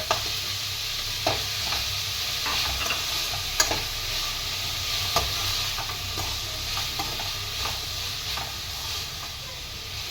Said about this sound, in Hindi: अब मैं इसी टाइम पे डालूंगी चिकन जो मैंने बॉईल किया हुआ है।